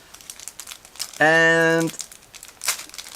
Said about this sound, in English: Whole plastic bag just tears apart